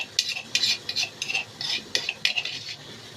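A spoon scrapes and clinks against a pot while stirring garlic into okra with meat, a quick irregular series of metallic scrapes and taps at close range.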